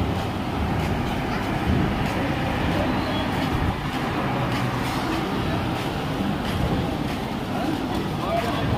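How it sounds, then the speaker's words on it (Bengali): An incoming train pulls into a platform at Sealdah station, a steady low rumble and rolling clatter lasting throughout at moderate loudness, with platform ambience around it. "এই দেখুন একটা ট্রেন আসছে"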